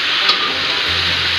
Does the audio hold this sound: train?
no